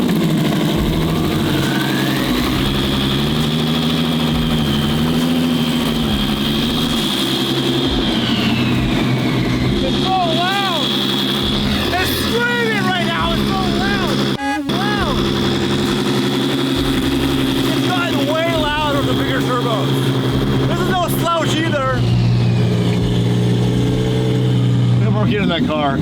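An original Lamborghini V12 idles steadily after startup, a loud, close, continuous engine drone with a few brief revs, while people talk over it.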